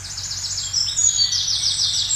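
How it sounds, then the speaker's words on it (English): Several birds chirp and trill in quick bursts outdoors, fairly close and loud, with no talking. "These birds are loud."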